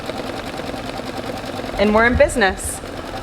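An embroidery machine stitching a name onto a towel hums with a fast, steady mechanical needle rhythm, close and continuous, while a person briefly speaks over it.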